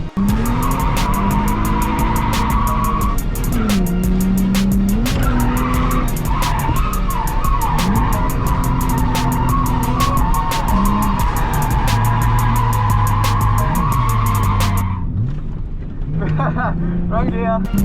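A car drifts on a Japanese track, its tires squealing in long sustained skids over a loud, revving engine that rises and falls with gear changes, before the noise suddenly drops away near the end.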